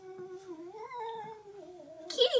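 A cat yowls indoors in a house, a long wavering drawn-out cry rising and falling in pitch, fairly close and alone, ending in a brief harsher burst.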